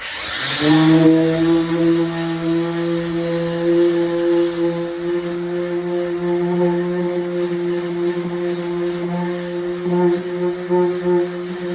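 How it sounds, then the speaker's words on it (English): A power sander with an 80-grit pad works truck paint down to bare metal, a steady droning motor whine that holds loud and even throughout. "we gotta sand it down to the bare metal"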